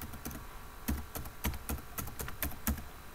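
Fingers tap on a computer keyboard in quick, irregular bursts of soft, close keystrokes, some hitting harder than others, with no talking.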